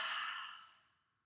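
A single long, breathy exhale during a yoga breathing exercise, close and steady at first, then trailing off softly over about a second.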